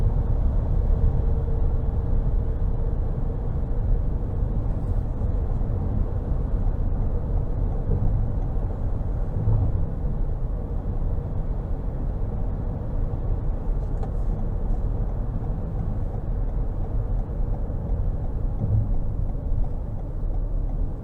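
Steady low road rumble and engine drone inside a 2022 Toyota Highlander XLE AWD SUV on the move, with broadband tire and wind noise holding even throughout and no talking.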